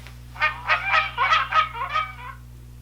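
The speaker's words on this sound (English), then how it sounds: "A goose sounds like this." A goose honks in a quick series of about eight nasal calls, close and loud, with a steady low hum underneath.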